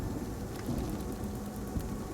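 Rain falls steadily with a low thunder rumble in the sci-fi game The Invincible on an alien planet, a dense, continuous hiss of droplets over a deep background roll.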